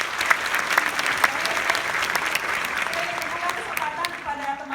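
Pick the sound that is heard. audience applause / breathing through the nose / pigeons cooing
audience applause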